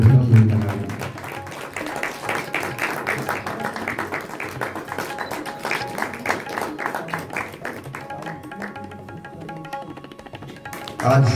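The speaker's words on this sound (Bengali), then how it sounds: "একটু জোরে হাততালি দিয়ে অভিনন্দন জানাই।" An audience at a theatre festival applauds a guest called to the stage: dense clapping fills the hall for about ten seconds, then thins out.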